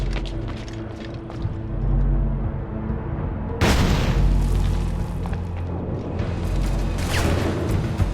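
A cannon blast in the pirate game Assassin's Creed 4 Black Flag lands as a sudden loud boom midway, followed by rumbling battle noise and a layered game soundscape.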